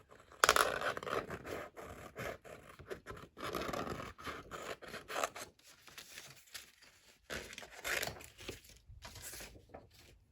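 Small scissors snip around a paper gift tag in short, quiet bursts of crisp cutting and rustling, close up with no one talking.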